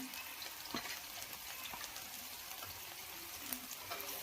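Onions, capsicum and green chillies stir-frying in a pan for veg Manchurian gravy, a faint continuous sizzle with scattered soft pops and stirring scrapes, heard alone.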